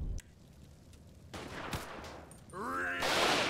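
Gunfire in a GTA 5 zombie mod comes as sharp scattered shots, one louder crack midway, then a dense rapid burst of automatic fire building at the end.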